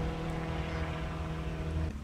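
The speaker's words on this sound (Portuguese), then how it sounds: "Ó, o avião," Airplane passing overhead, a steady broad engine drone that holds at an even level, then cuts off abruptly near the end.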